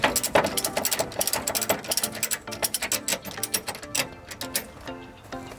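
Ratchet strap being cranked down to tighten a wheel net on a trailer, a rapid series of close metallic clicks in uneven bursts.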